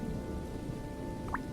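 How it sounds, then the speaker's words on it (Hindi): Heavy rain pours down in a dense, continuous wash, steady and close, with a short higher-pitched sound near the end and no voices. "पर कितनी तेज बारिश है ये।"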